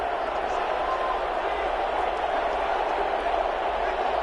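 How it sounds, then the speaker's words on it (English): A football stadium crowd keeps up a steady, dense roar throughout, with no sharp peaks or single standout cheers. "Crowd getting in it a bit already."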